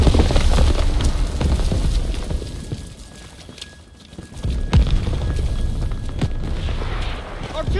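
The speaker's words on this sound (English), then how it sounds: "Artillery's hitting the beach." Artillery shells burst across a D-Day beach landing in a World War II shooter game, a dense rumbling barrage with heavy booms near 4.7 seconds and a brief lull in the middle.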